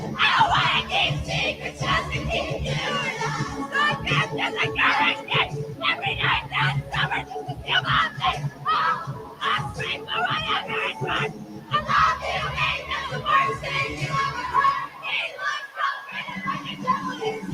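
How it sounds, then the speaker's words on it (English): Loud concert crowd screaming and yelling for a performer, a dense continuous roar of high shrill voices with bursts of shrieks throughout, briefly dropping near the end before swelling again. "But do you hear how loud the crowd is?"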